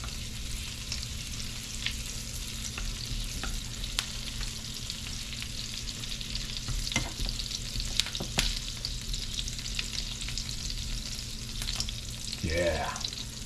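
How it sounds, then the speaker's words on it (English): Thyme sizzles and pops in hot butter and oil. A steady, dense frying crackle is broken by sharp pops, close and constant, with no talk. "The thyme is popping, infusing that butter and that oil mixture."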